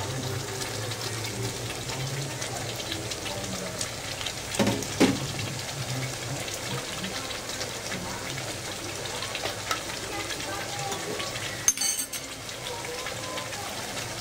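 Prawns and petai frying in sambal, a steady close sizzle with stirring and scraping throughout, broken by a couple of sharper clatters.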